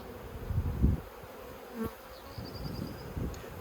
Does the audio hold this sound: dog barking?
no